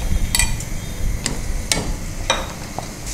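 Cashews, almonds and raisins lightly frying in oil, with a steady low sizzle beneath sharp, scattered clicks as a spoon stirs and taps the pan. The sounds are close and there is no talking.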